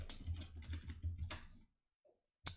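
Fingers type quickly on a computer keyboard, a close, dense run of clicking keystrokes for about a second and a half, then a short silence and a final sharp key press.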